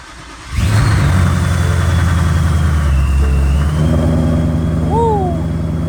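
A Ford Mustang S550 fires up from a cold start after sitting about a month: a sharp crank catch, then a loud, steady, deep rumble at close range that holds throughout with no voices.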